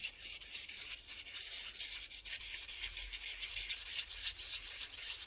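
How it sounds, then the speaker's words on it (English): Charcoal stick being ground against a piece of sandpaper to sharpen its point, giving a steady close-up scratchy rubbing that continues without a break for the whole stretch, with no talking. "take a bit of a sandpaper, take a charcoal, and then grind it like this."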